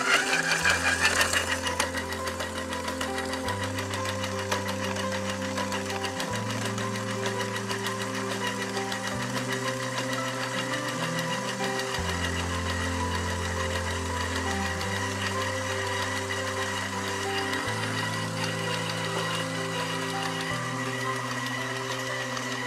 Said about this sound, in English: We recommend for dough making to use the stand mixer at speed 6.